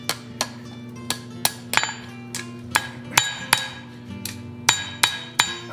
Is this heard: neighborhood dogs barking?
no